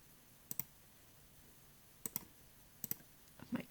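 Three quick mouse double clicks, each a pair of sharp close clicks spaced about a second and a half apart, over a faint quiet room background, with a brief soft rustle at the end.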